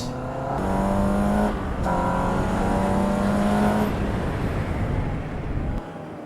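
A Caterham race car on a circuit is driven hard through S-bends, its engine holding a steady high-revving drone with brief dips between gear changes, loud and close for several seconds.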